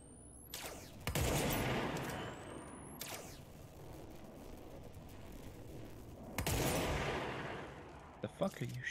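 Gunfire in an indie horror video game, a few loud sharp bursts of shots separated by quieter stretches, with a person talking over parts of it.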